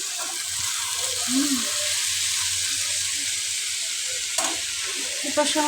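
Food fries in a pan with a steady close sizzle, a few soft stirring scrapes and light clinks breaking through near the end.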